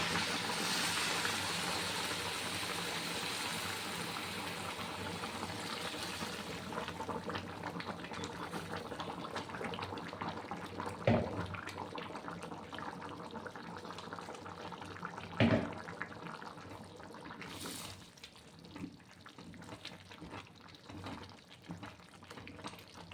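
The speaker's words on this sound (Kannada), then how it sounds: "ಬಿಸಿ ನೀರನ್ನ ಹಾಕ್ಕೊತಾ ಇದ್ದೀನಿ" A continuous gentle stream of hot water pours and gurgles into a pot of rice and lentils, fairly quiet and steady, with a couple of light knocks along the way.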